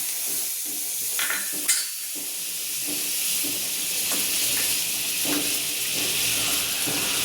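Butter sizzles in a hot pan at the start of cooking paneer masala pav, a steady close hiss and crackle that holds throughout with a few brief pops.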